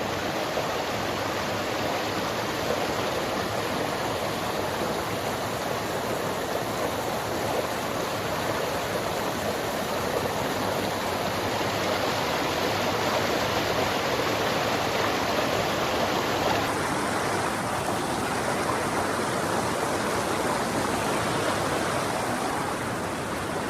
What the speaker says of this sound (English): this is a great little babbling brook